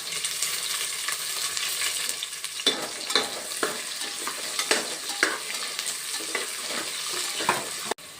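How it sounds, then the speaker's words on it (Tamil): Onions sauté in a hot pan with oil for a kadappa curry, giving a continuous close sizzle. A spoon stirs and scrapes against the pan in repeated strokes, and no one speaks. "இதை வெங்காயத்தை போட்டு கொஞ்சம் பொன்னிறமாக வதக்கணும்."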